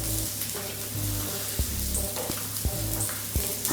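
A bean burger patty sizzles and fries steadily in a pan, with a continuous crackling hiss and a few soft taps and scrapes of a utensil pressing it.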